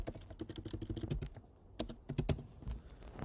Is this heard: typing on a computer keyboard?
yes